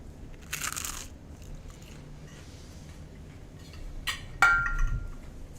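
Crunchy food being eaten ASMR-style, a few sharp close crunches and bites separated by quiet pauses, with a louder crisp bite near the end.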